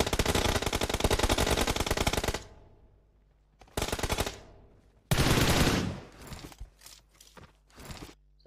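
Automatic gunfire rattles in PUBG Mobile: a long loud burst, silence, a short burst, then another sustained volley trailing into scattered single shots and clatter.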